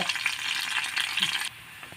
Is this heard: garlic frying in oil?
yes